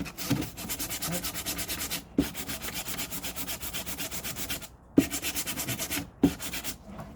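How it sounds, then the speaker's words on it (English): Hand sandpapering along the plastic wall of a portable ice chest, steady rhythmic back-and-forth rubbing strokes in several bursts separated by short pauses, close and fairly loud. "you're going to sandpaper that whole length under those dots"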